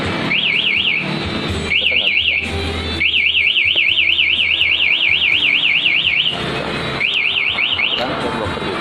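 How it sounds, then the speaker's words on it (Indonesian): A loud Honda Vario motorcycle alarm warbles in rapid rising-and-falling bursts, stopping and restarting several times, with low engine-like rumble and noise between bursts. "maka motor atau alarm akan berbunyi keras seperti ini"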